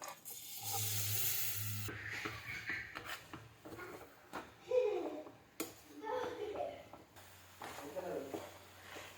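Stirring and scraping grated carrots in ghee in a hot kadhai with a soft sizzle, in irregular bursts, while a person talks over it.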